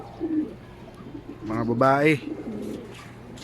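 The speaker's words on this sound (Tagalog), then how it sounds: "So ito yung mga ibon natin" Pet pigeons or doves cooing inside their cage, a close, throaty rolling coo rising in the middle, with a person speaking briefly nearby.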